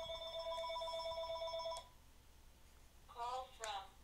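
A telephone rings with a steady electronic tone that cuts off, followed by a short pause and then a voice speaking briefly, all heard fairly close.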